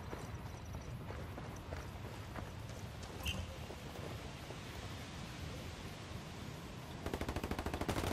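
Rapid gunfire in the tactical shooter Ghost Recon Ghost War, a dense stream of quiet, distant-sounding shots under a steady noisy game bed, with a faster, louder burst near the end.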